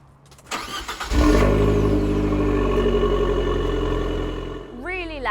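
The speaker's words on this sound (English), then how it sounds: "I'll quickly start it up." A 2021 Abarth 595C Turismo with the standard Abarth exhaust cranks briefly, then fires and settles into a loud, burbly idle, close by. A voice speaks over the end.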